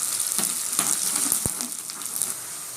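Chopped onions sautéing in a pan for sambar, a continuous hissing sizzle that holds steady throughout, with one low knock partway through, close up and without speech.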